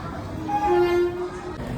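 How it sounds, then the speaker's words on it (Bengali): At Bardhaman station, the Siuri–Howrah Hul Superfast Express with ICF Shatabdi-type coaches pulls into the platform, sounding a short horn note over a continuous rolling rumble. "ICF শতাব্দী P4 এর সাথে প্রবেশ করছে সিউড়ি হাওড়া হুল সুপারফাস্ট এক্সপ্রেস"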